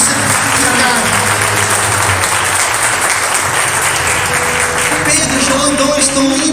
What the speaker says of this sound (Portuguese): Você pode aplaudir o Senhor por isso?